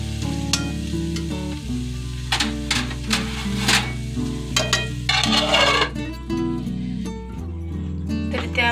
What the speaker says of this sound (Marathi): तर इथे आपण आता 2 मिनिटं छान अशी झाकून भाजी वाफवून घेणार आहे।